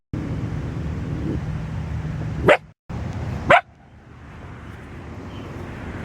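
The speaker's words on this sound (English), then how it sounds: "If you're farther away, she barks defensively." A fearful puppy barks defensively at someone keeping their distance, giving two sharp, loud, separate barks about a second apart over a low steady background hum, then quiet.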